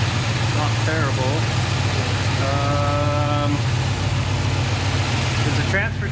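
A Chevrolet K5 Blazer engine idles steadily, slightly high, with a low rumble while a few people talk over it.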